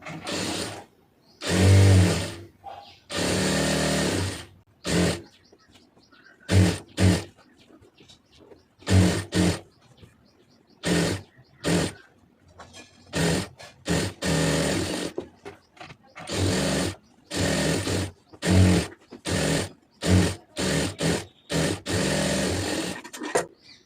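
A sewing machine runs stitches along the seams of a cigarette pant in repeated bursts of varying length, stopping and starting with short pauses between runs, close and fairly loud.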